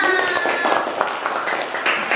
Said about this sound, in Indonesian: Nah, beri tepuk tangan dulu.